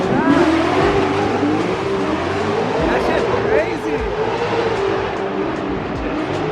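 At a street car meet, cars rush past fast with revving engines, rising and falling whines and a brief tire squeal, loud and close, while people talk nearby over the traffic.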